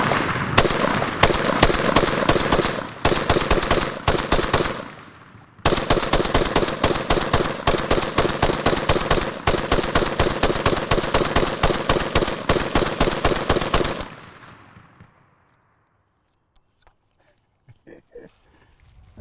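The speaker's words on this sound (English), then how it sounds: "The point of a machine gun is to put a lot of rounds down range, lay down suppressing fire" A DP-27 (DPM) light machine gun fires rapid, sharp bursts outdoors, with long strings of closely spaced loud shots broken by brief pauses, then fading to near silence with a few faint clicks.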